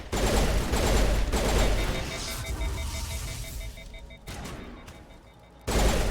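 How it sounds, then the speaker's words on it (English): Burst-fire pistol shots in Mass Effect, clustered rapid cracks in short volleys early on, fading into a quieter stretch before another loud burst at the end. "I never realized that you had, like, burst fire pistols in this game."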